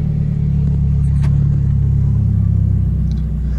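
A Nissan March 1.6 16v engine idles after starting, a steady close low rumble holding evenly throughout with a brief faint click partway, no talk.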